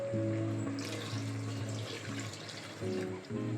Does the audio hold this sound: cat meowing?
no